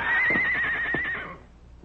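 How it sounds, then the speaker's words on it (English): A horse whinnies loudly in a long, shrill, quavering neigh, close by, fading out at the end with a soft thump. "Whose horse was that I just heard?"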